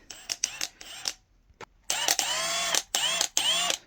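A cordless power tool, likely an impact wrench or driver, runs in several loud, close bursts while removing a nut during a van build, with short pauses and a faint click between the whirring runs.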